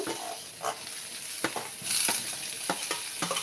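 Snake gourd tossed into a pan with green chillies for a poriyal, giving a steady sizzle of frying with several sharp scraping stir strokes spaced across the stretch, close by with no talking.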